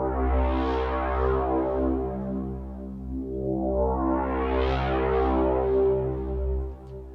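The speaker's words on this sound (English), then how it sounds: "This one is mostly a filter sweep, LFO based." A synth preset called Pig Sweeper plays a sustained harmonic tone whose LFO-driven filter sweeps up and down twice, brightening and darkening in slow waves, loud and steady with no talking.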